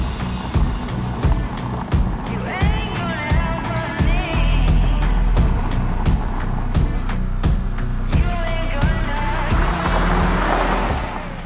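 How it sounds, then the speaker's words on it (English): A car rolling down a highway, a loud, steady engine and road rumble filling the cabin, with wind buffeting and occasional knocks and thumps throughout. "We're heading down the highway."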